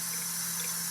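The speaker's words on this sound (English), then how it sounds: "So I'd fill this up with water." A container being filled with water from a tap for a crystal-growing project, heard as a loud, steady, close hiss and rush of running water.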